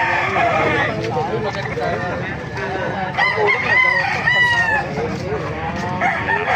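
A rooster crows over a busy background of people talking, with other fowl clucking nearby, at a gamefowl market in Baliuag, Philippines.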